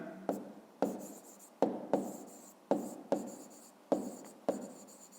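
A pen writing by hand on paper during a fifth-grade maths exercise, heard as about nine close, distinct scratchy strokes in an uneven rhythm, each starting sharply and trailing off, with no speech.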